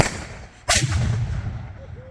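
A Civil War cannon at a Clayville, Illinois demonstration fires one loud, sharp boom that rolls on into a brief rumbling echo, outdoors and fairly close.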